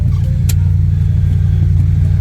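Idling Jeep Grand Cherokee engine (2006–2010 era) with a steady, close, low rumbling pulse and one brief sharp click near the start; no talking.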